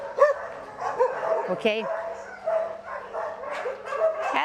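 Several dogs bark and yip in a crowded shelter run of a Phuket dog rescue, some sharp and close, others farther off, while a person talks over the noise.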